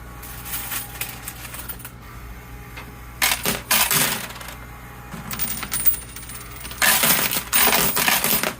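Bursts of coins, quarters, clatter and cascade inside a coin pusher machine, metallic jingling in several waves over a steady electronic hum, no voices.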